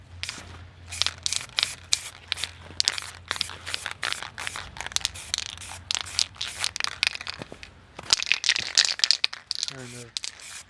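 Short, uneven bursts of spray paint hiss lightly dust black over a rifle in winter camouflage, the rapid spurts coming close together with brief gaps, close up and moderately loud.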